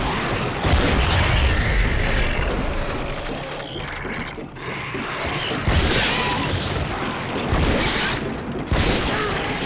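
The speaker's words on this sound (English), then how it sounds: "you can just blow open with the shotgun those gates" Shotgun blasts ring out in the Darkwatch video game as gates are blown open, with heavy booms and crashing impacts over a dense, continuous layer of gunfire and game noise.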